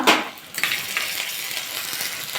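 Fried onion in a pan for an egg dish, a sharp clatter at the start, then a steady close sizzle with light stirring scrapes and small taps, no talk.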